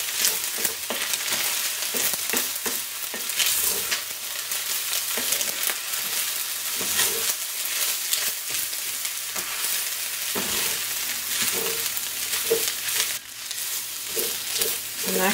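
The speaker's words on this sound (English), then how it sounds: "Stir this up again." Food frying in a pan keeps up a dense, steady sizzle while a utensil stirs and scrapes in repeated bursts, close and fairly loud with no voices.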